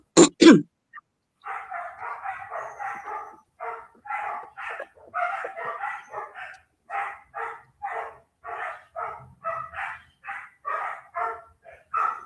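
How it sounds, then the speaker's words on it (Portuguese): A dog barks in long runs of short, rapid, yappy bursts, steady and fairly close, after a couple of louder sounds at the start. "Mas aquele cão está a discutir com quem?"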